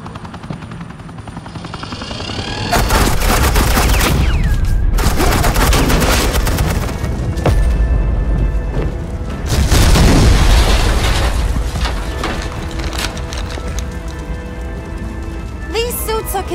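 Gunfire and explosions from a Batman video game: dense bursts of shots and booms with a helicopter-like roar underneath, loud and sustained for most of the stretch, with brief voices mixed in.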